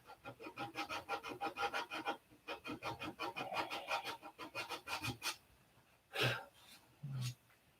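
Repeated rasping strokes of sandpaper rubbing on wood by hand, steady back-and-forth rhythm, fairly quiet and close, followed by a couple of brief soft noises.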